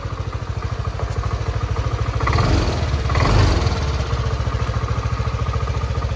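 A Yamaha Nmax 155 scooter with 62,000 km on it idles steadily after engine work, a rhythmic low putter with a slight rise in level midway, close by and without speech.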